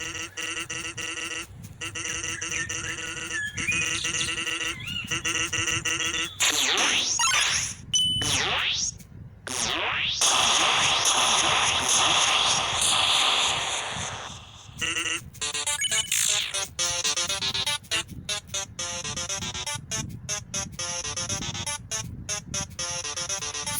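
Undertale battle sounds from a video game: rapid electronic bleeps, chimes and buzzy synthetic tones in choppy bursts, with sweeping effects and stuttering staccato hits toward the end, loud and without talk.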